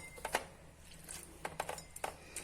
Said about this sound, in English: Let us mix the batter.